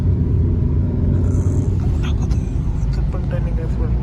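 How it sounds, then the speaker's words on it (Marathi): Vehicles climbing a steep hill road on the way to Nashik, a continuous low engine rumble close by with passing traffic under light background noise. "सगळ्या गाड्या वरती चालल्यात वरच्या दिशेने"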